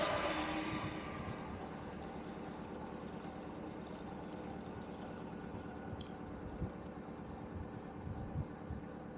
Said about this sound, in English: There's the train that runs alongside.